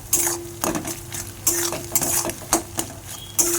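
An egg fries in mustard oil in a home kitchen, with a soft sizzle under sharp clinks and scrapes of a utensil against the pan at irregular intervals.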